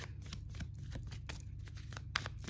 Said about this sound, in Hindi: let's take out few more cards